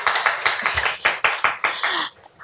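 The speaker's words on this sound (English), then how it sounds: "come on, a little bit of applause" Brief, scattered applause from a small audience at an evening lecture event, a few pairs of hands clapping unevenly near the microphone before trailing off.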